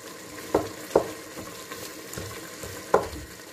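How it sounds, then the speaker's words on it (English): Atama soup simmering in a pot, stirred with a soft steady bubbling and three sharp utensil knocks against the pot, two close together early and one later. "stir a little bit"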